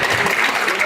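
An audience at a convention panel at ANIMATE! Miami applauds in a brief, dense wash of clapping, with voices mixed into the crowd noise.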